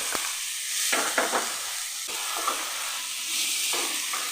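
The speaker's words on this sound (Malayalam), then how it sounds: "ഇനി ഇതിലേക്ക് നമ്മൾ ചോപ്പ് ചെയ്തെടുത്ത സവോള ചേർക്കും" Chopped onions hit a hot pan with a bay leaf and sizzle steadily, a bright frying hiss punctuated by a few soft stirring scrapes, close and fairly loud with no voices.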